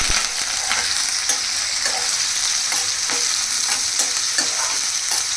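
Green chillies, onion and curry leaves fry in hot oil with a steady, close sizzle, broken by regular clicks and scrapes of a stirring utensil in the pan.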